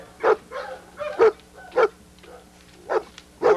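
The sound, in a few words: young dogs barking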